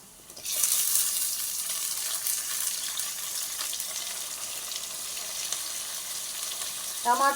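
Okra and tomato pieces frying in a pan and being stirred, giving a loud, steady sizzle with scraping that keeps going for several seconds, close up and with no talking.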